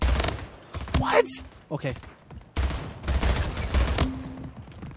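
Rapid bursts of gunfire from the arena shooter Splitgate Arena, loud and clustered in short volleys, with a player's voice speaking briefly over the shots.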